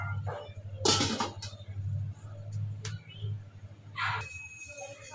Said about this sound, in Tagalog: Ang ingay ng aming mga aso. Aming aso pala ng kapitbahay guys.